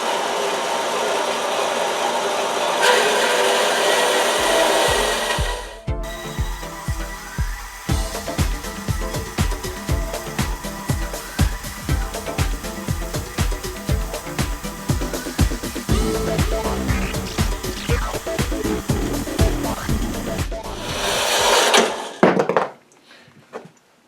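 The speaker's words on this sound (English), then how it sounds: "this bandsaw blade's got a bit of a funny jump in it on the way round, but it's still working" A bandsaw with a blade that jumps on its way round cuts through metal clamp pieces, giving a steady run of rhythmic ticking knocks over the motor hum, with a brief quiet pause near the start.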